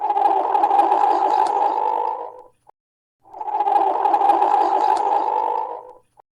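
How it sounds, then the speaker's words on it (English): A platypus call plays as two long, even, raspy growling bursts with a brief silent gap between them, clear and without background noise. "now let's see what a platypus really sounds like."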